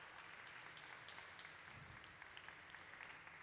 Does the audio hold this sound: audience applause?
yes